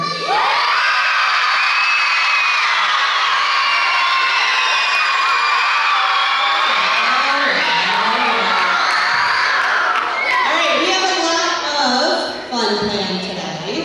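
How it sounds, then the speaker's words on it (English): A crowd of school students at a state-test pep rally cheers and shouts loudly, a dense sustained roar of young voices filling the hall, with a single voice rising out of the noise in the later seconds. "give me your best cheer"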